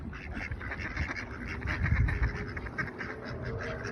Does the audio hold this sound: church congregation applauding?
no